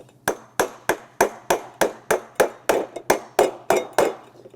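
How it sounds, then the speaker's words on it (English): A mallet hammers plastic caps onto the post of a Griot's Garage detailing cart, a dozen sharp, evenly spaced blows in steady rhythm, each with a short decaying ring, alone and close. "and then you're going to take your mallet,"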